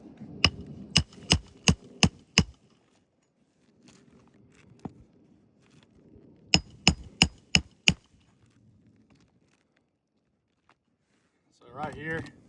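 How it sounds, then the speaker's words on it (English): Two runs of five or six sharp hammer strikes on brittle roof shingles that flake and break off, loud and evenly spaced, with quiet scraping between them and a brief voice at the end. "just by hammering, we've got pieces of shingle just breaking off and flaking away"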